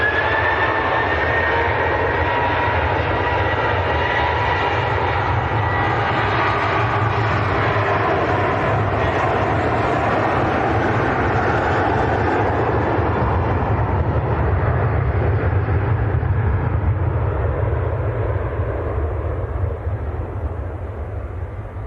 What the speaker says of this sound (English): here comes the Gulf